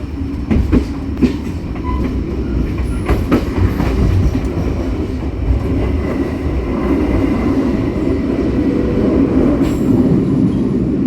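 A CL Arjonegoro commuter train departs Wonokromo station, rumbling loudly and steadily from inside the carriage with rhythmic clatter of wheels over rail joints and occasional faint squeals.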